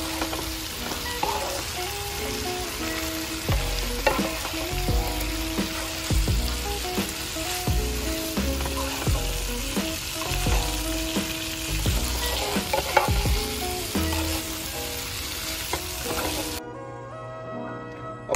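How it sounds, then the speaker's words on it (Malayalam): Pieces of fish sizzle and crackle steadily in hot oil in a pan while being stirred for Kerala-style fish pickle, with frequent scraping and clattering knocks of the spoon against the pan. "നമ്മൾ ഇതിനകത്തോട്ട് മീൻ ഇട്ട് കൊടുക്കുന്നു. നല്ലപോലെ ഇളക്കി കൊടുക്കുക."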